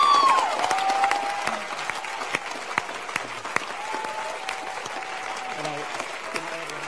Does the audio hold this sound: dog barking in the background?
no